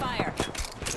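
Gunfire in Apex Legends: a quick volley of sharp shots in a busy firefight, loud and close, overlapping game voice callouts.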